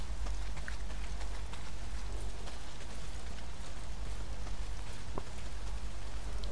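Heavy rain pours in Days Gone, a loud, dense, unbroken hiss with a deep low rumble underneath and scattered drop ticks, heard alone without talk.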